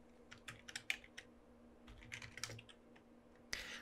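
Typing on a computer keyboard while working in Photoshop, a quick run of light close key clicks in uneven bursts with brief pauses, quiet and without talk.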